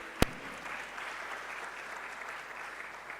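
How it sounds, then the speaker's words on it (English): A hall audience applauds at a moot court competition closing ceremony, beginning with one sharp clap before settling into a steady, even wash of clapping that carries on throughout. "A round of applause one more time."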